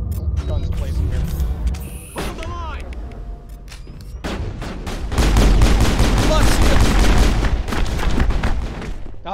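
Gunfire in the Mass Effect video game, with scattered shots and booms giving way to sustained rapid bursts of automatic fire, loud and close, mixed with game effects and a voice talking over it.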